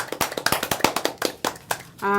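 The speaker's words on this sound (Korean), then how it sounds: "박수 한번 주십시오" A brief round of clapping from a small group at a press conference, irregular and close, ending as a sustained tone begins.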